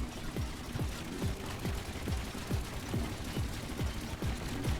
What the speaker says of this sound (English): Trying to make an automatic anti-aircraft gun.